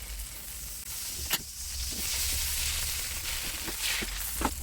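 Spices sautéing in margarine in a pan give a steady, moderately loud sizzle and hiss, broken by a few sharp clicks and scrapes from stirring.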